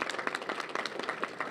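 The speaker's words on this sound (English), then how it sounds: "So a round of applause for our folks" Applause from a luncheon audience at a rural life conference, many hands clapping at a brisk, dense rate close by, steady and moderately loud through the brief moment.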